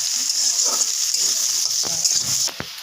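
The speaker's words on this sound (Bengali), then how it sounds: "এটা আমি হালকা ভেজে দেবো।" Dried shrimp frying lightly in a pan for a ridge gourd dish give off a steady, close hiss of sizzling oil, with a few soft scrapes of stirring and no voice.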